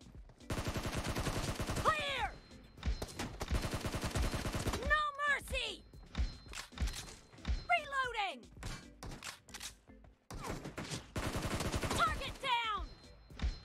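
AK rifle gunfire in PUBG Mobile crackles in long sustained automatic bursts and rapid volleys, loud and close, broken by short pauses, with a person talking over the shooting.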